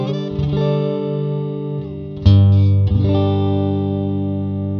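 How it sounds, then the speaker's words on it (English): Vola Zenith electric guitar, Strat-style neck pickup, played clean with sustained chords ringing out, a sharper strum midway and another soon after, bell-like tones over a full, clear bass, with light effects and reverb. "The neck pickup is a classic Strat sounding neck pickup with beautiful bell-like tones"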